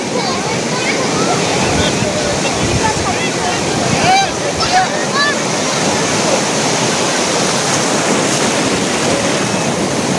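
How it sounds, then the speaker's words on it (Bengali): Sea waves surge and break at New Digha beach in Digha, a steady loud roar of rough surf that runs through the whole stretch, with voices talking and laughing nearby over the water. "ওই ঢেউটা দেখুন কেমন আসছে"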